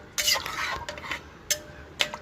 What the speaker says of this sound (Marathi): पाणी घातल्यानंतर सगळं व्यवस्थित मिक्स करून घ्यायचं आहे